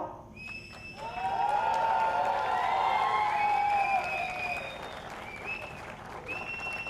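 Loud, sustained audience applause for the star cast of Mahakumbh at a television event, a dense clapping wash that swells and holds for several seconds, with a faint voice above it.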